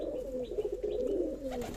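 Pigeons at a Rajshahi pigeon farm feed in a line on new wheat, giving soft, low, repeated coos that are fairly close and overlap one another, with no talking.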